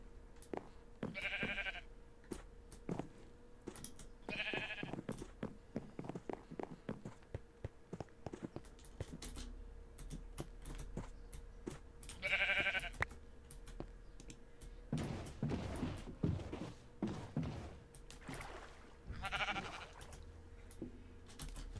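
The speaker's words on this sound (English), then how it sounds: "that's just the sheep eating the grass" Sheep bleating in Minecraft Skyblock, several short bleats spread across the clip with a gap in the middle, set among soft clicking from a computer keyboard and scattered game noises.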